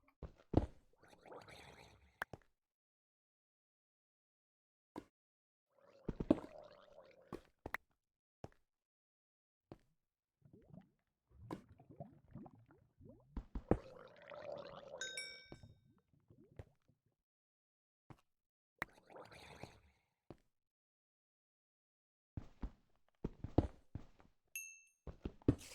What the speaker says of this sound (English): That gurgling and weird noises was for nothing, more or less.